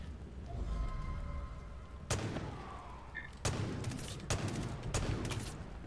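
Gunfire in the Far Cry 5 video game: sharp, loud bursts of shots break out around two, three and a half, four and five seconds over a steady low background rumble.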